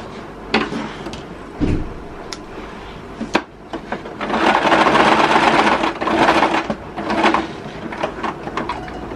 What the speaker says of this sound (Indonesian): Jadi kita jahit sampai ke ujung sini, masuk di sini jarum jahit, kemudian diputar ya.